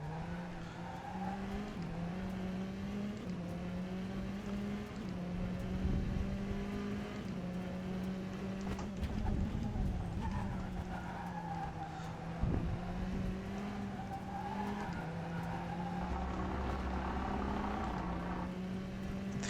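A race car in the sim racing game rFactor 2 drones steadily throughout, its engine note shifting gently in pitch under braking and acceleration, loud and continuous with brief tyre-squeal accents and no talk.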